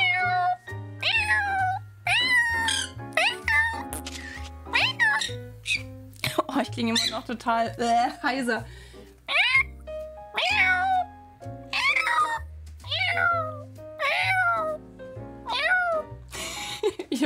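A person imitates a cat, voicing a rapid series of high, pitch-sliding meows close to the microphone, with bits of German speech mixed between the calls.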